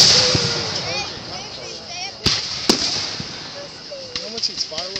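Fireworks display bursting overhead, with sharp loud bangs near the middle and a quick scatter of crackling pops toward the end, over steady hiss and people talking throughout.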